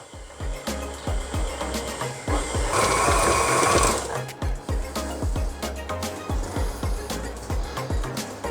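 Electric mixer slowly beating Greek Easter koulourakia cookie dough, a steady mechanical whir with rapid rhythmic clunking throughout, loud and close.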